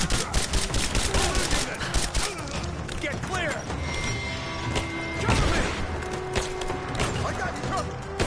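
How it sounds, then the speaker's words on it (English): Gunfire from Rise of the Tomb Raider, dense bursts of rapid shots clustered at the start, then scattered reports among clanks and crashes through a busy game mix; someone talks over it. "I'm under fire."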